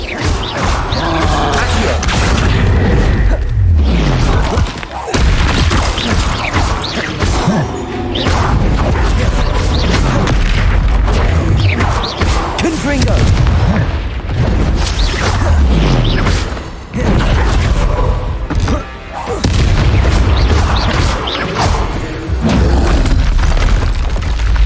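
Spell blasts from Hogwarts Legacy boom and crash in rapid succession, loud explosive impacts and bursts layered with game music and combat noise, with a shouted voice casting at times.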